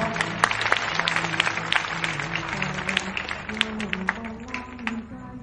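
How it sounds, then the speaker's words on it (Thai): Studio audience applauding a 20,000-baht donation on a Thai reality show stage, broadband clapping sustained throughout over steady background music, moderately loud and continuous. "ขอเสียงปรบมือด้วยครับ"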